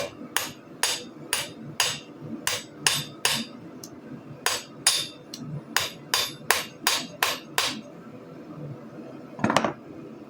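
A hammer strikes 3/4-inch by 1/8-inch steel angle iron during forging, ringing out in a steady series of sharp metallic blows, close and loud, with a short pause partway before the rhythm resumes.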